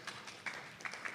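An audience claps softly and sparsely at low energy during a poetry slam, a few light, quiet claps scattered over about a second like a gentle golf clap.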